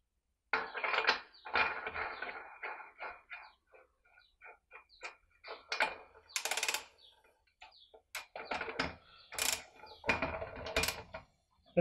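Metal clutch parts clink, rattle and ratchet as the clutch goes onto a Stihl 017 chainsaw. The bursts of close mechanical clicking are separated by quiet pauses.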